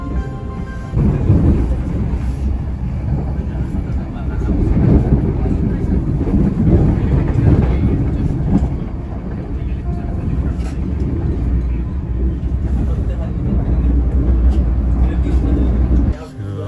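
A train runs past a station beside the River Thames with a heavy, sustained low rumble that swells and fades over several seconds, while someone talks throughout.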